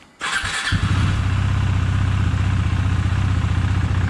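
A 2020 KTM 390 Duke motorcycle engine cranks and catches, then settles into a steady, throbbing idle close by, with no one talking.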